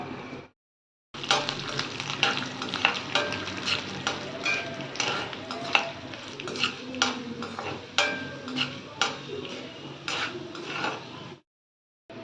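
Chana dal, urad dal and cumin seeds fry in hot oil while being stirred, giving a busy crackling sizzle with frequent clinks of a utensil on the pan. No one talks, and there is a short silence at each end.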